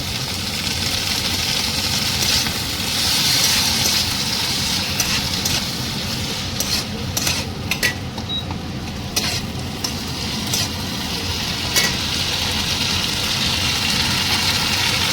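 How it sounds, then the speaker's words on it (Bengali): Ginger, green chili and tomato paste sizzle steadily in a hot pan, a loud continuous frying hiss with occasional stirring scrapes, no voices. "প্রথমে দিলাম আদা কাঁচা লঙ্কা টমেটো বাটা।"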